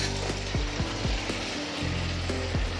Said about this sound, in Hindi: अब इसमें ऐड कर देंगे फ्राई की हुई सब्जियाँ।